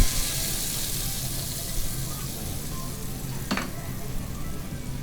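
Mustard seeds and tomato blend sizzling in a pan for a stew, a loud continuous crackling fry with one brief clink partway through, no speech over it.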